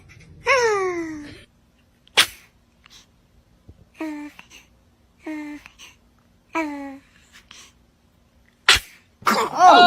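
Sharp sneezes burst out twice amid a series of short, squeaky, falling vocal sounds, close and fairly loud, with brief pauses of quiet between them.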